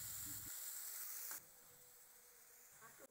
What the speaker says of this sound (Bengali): কড়াইতে পরিমাণ মতো সাদা তেল দিয়ে তারপরে নুন হলুদ মাখানো চিংড়ি মাছগুলো দিয়ে দিলাম।